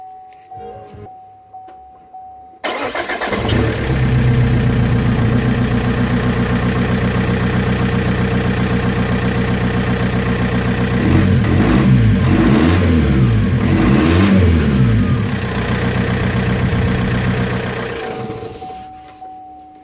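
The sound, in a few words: car engine running without exhaust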